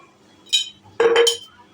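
A spoon adding salt to a pot of dal makes one light metallic tap, then a brighter cluster of clinks a moment later, close and crisp against a quiet kitchen.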